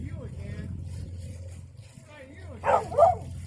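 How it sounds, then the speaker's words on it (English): A dog barks twice in quick succession near the end aboard a boat on the Intracoastal Waterway, over a low engine hum and faint background voices. "Bodie's barking at Chris."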